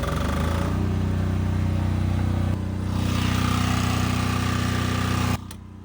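Portable Philking generator engine running steadily after a remote-control start, a loud continuous drone with a brief dip midway before cutting off abruptly near the end.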